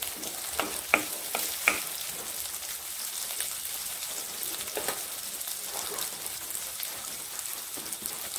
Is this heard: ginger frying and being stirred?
yes